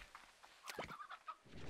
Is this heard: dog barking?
no